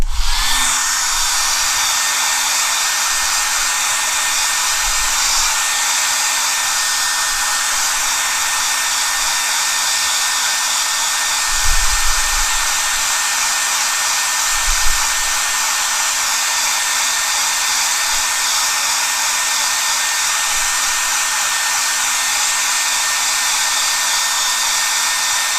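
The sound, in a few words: hair dryer blow-drying paint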